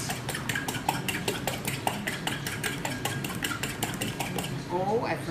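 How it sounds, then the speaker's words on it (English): A fork beats eggs in a bowl with quick, steady clinks against the side, close and continuous for several seconds, ending with a brief scrape. "You beat the eggs very well with a fork"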